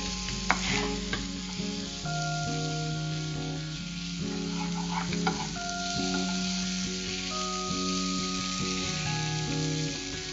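Fried idli is stirred through masala in a pan, giving a steady gentle sizzle with intermittent scraping strokes of a spoon, while music plays underneath throughout.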